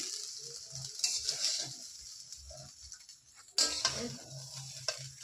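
A spoon scrapes and stirs rice and vegetables with whole spices such as cardamom, cinnamon and cloves in a pan, with soft sizzling and a few sharper scrapes.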